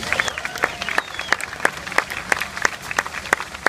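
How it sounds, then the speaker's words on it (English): An audience at a press conference for a steam locomotive's homecoming claps in a steady round of applause, with sharp, evenly spaced claps standing out over the crowd's clapping. "So a nice big round of applause for him."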